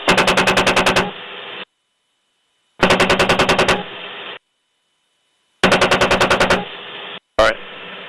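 A helicopter-mounted machine gun fires on ground troops in Afghanistan or Iraq in three loud, rapid bursts of about a second each. Each burst is followed by radio-like hiss and brief silences, and radio chatter sits between them.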